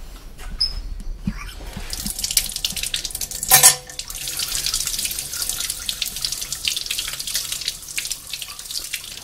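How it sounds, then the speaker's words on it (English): Tap water runs steadily into a sink, rinsing pickling acid off a piece of quenched metal, a continuous close hiss with a brief louder splash partway through. "so now I have to just wash the acid off."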